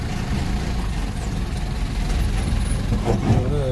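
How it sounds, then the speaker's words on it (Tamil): Heavy truck engine rumble on a road on the Coimbatore bypass between Madhukarai and Madhampatti, a low continuous roar growing slightly louder toward the end, with a brief hiss near the close. "லாரி வேறு வருதுயா"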